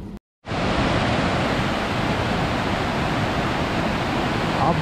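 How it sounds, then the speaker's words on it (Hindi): Rushing mountain river water roars as a loud, dense, continuous wash after a brief gap at the start, steady and close along a road from Rishikesh to Chopta. "इतनी अच्छी साउंड पानी की अभी तक रास्ते में हमें कहीं नहीं मिली"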